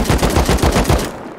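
Gunfire in the survival video game Rust, a rapid burst of about eight sharp, loud shots in quick rhythm, then a short decaying tail, with no talking.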